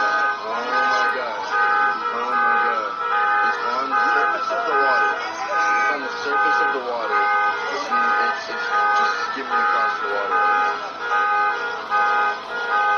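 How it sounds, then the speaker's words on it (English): Car horns honk and beep in a dense, overlapping chorus in Nashville, Tennessee, with steady tonal blasts that keep going without a break, loud and fairly close. "Right now, all I see is beeping horns."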